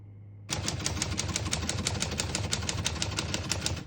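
Rapid keystrokes on a 1936 Corona Silent portable typewriter clatter in a fast, steady rhythm after a short pause, each strike close and crisp with a soft mechanical thud.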